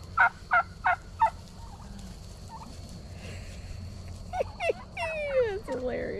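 Wild turkeys gobble in four loud, evenly spaced bursts near the start, then rapid rising and falling calls and scuffling follow as the flock runs off, heard outdoors at moderate distance.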